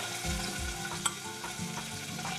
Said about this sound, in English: I'm actually gonna cook it in batches so that we get a nice brown